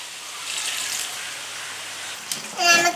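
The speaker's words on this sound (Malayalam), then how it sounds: "അപ്പൊ നമുക്ക് ഇതിലേക്ക് കുറച്ച് വെള്ളം ഒഴിച്ചു കൊടുക്കാം" Water poured into a cooking pan of frying food, a steady close rush of liquid lasting a few seconds and ending with a brief louder splash.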